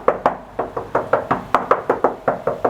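Knocking on a van floor covered with sound deadening mat: about thirteen dull, damped knocks in a steady, even rhythm, close and fairly loud, with no voices.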